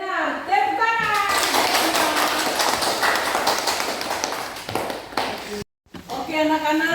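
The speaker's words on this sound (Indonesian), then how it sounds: "Tepuk tangan." Classroom children clap their hands in a dense burst of applause lasting several seconds, with young voices and an adult speaking before and after.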